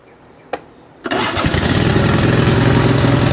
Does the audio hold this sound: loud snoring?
no